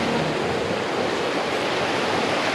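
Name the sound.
rushing water of Whiskey Rapids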